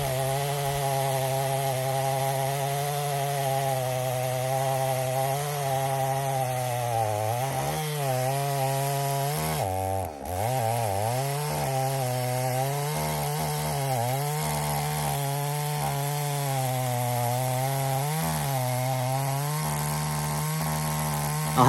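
A chainsaw runs loudly and continuously through a big dead tree, its steady high whine dipping and straining briefly under load midway before holding on, with no voices.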